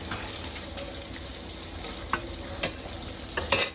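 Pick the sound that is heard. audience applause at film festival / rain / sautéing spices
sautéing spices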